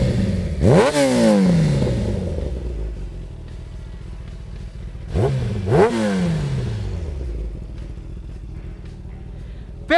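A Kawasaki ZX-10R motorcycle engine revs sharply twice, each throttle blip rising to a loud roar and dropping back to a rumbling idle, close by.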